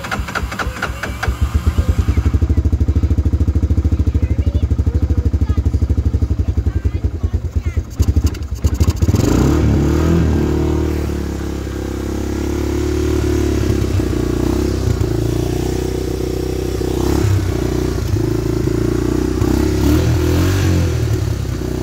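Honda Big Red three-wheeler engine running close and loud with a rapid chugging idle, then stumbling and revving unevenly in the second half.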